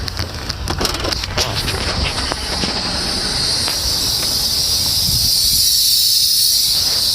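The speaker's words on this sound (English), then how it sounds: "the back of my truck will release all the air, and you should be able to hear it hissing" A steady hiss of air releasing from a truck's air suspension runs through, with a few sharp clicks and rattles early on, close by and fairly loud.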